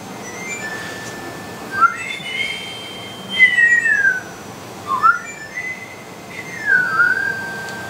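A flute melody from the game Zelda: A Link to the Past plays as a thin, airy tune of rising and falling whistle-like notes in short phrases, moderately loud with no talk.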